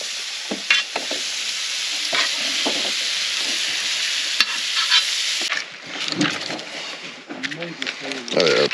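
Potatoes and onions sizzling in a pan at an outdoor desert camp, steady hissing with scraping stirs, while someone talks over it toward the end.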